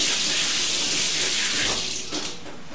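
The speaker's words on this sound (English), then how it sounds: "I'll give my hand a rinse over here" Water runs steadily from a tap as hands are rinsed beside a cooking area during outdoor poultry preparation, a loud close hiss that shifts slightly as the hands move through the stream and then eases off.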